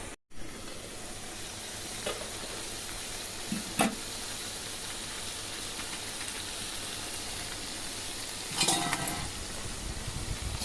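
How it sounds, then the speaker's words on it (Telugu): Chicken fries in oil in a pan for a chicken curry, giving a steady, close sizzle and crackle throughout, with a few brief stirring clatters. "ఇలా ఆయిల్ పైకి వచ్చేదాకా చికెన్ బాగా వేయించాలి"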